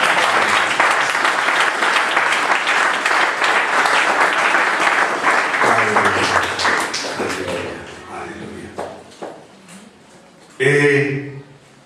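Loud congregation applause fills the first eight seconds, thinning to scattered claps and shuffles before a voice speaks loudly at the end.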